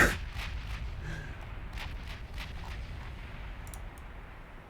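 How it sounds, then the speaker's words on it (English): Battleship turret guns of the USS Alabama (BB60) fire in the naval game Ultimate Admiral Dreadnoughts, a heavy opening boom followed by a rolling low rumble and scattered softer reports fading over several seconds. "Just want to get all the turrets firing."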